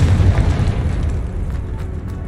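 A Confringo fire spell goes off in Hogwarts Legacy as a loud, deep booming blast that rumbles and slowly fades over a couple of seconds, with no voices over it.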